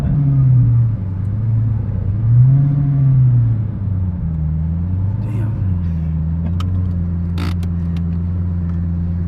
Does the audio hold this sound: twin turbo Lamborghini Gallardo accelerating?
yes